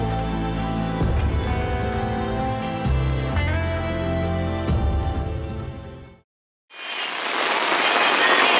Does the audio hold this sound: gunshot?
no